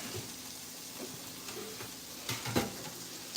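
Vegetables sauté quietly in a pan for a faux shepherd's pie, a faint steady sizzle with occasional soft utensil knocks and a couple of sharper clinks toward the end, no talking.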